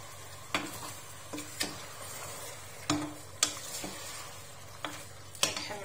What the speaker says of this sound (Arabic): هاهو كيتشحر، نخليوه تيتشحر مزيان.